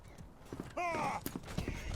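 Horse hooves clop faintly in the medieval combat video game Mordhau, mixed with a short neigh in the middle, all quiet and close together over about two seconds.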